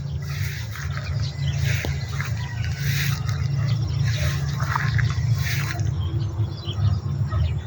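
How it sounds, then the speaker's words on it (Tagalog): Steady rain falls continuously over a vegetable garden with chili plants, a dense even patter and drip close by, with faint bird chirps mixed in. "tuloy-tuloy na yung ulan"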